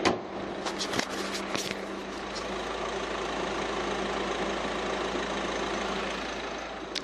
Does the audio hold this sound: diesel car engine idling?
yes